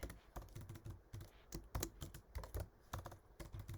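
Fast, uneven keystrokes on a computer keyboard, close and fairly quiet, arriving in short bursts with brief pauses between them.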